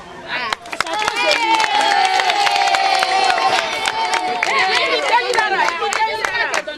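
A lively crowd cheers and claps continuously, with shouts and sharp hand claps scattered throughout, loud and close.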